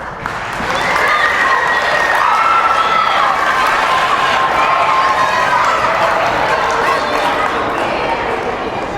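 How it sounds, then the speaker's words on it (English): A school-assembly crowd at an elementary-school workshop speech claps steadily and loudly, with cheers and children's shouts mixed in throughout, a sustained wash of applause lasting the whole stretch. "Let's keep that round of applause going"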